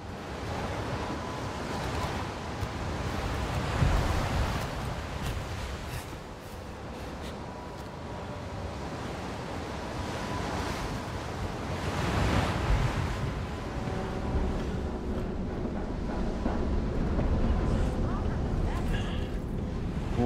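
Rolling ocean waves and surging water in the game Still Wakes the Deep, set on a sinking offshore rig, wash continuously with gusting wind beneath someone talking throughout.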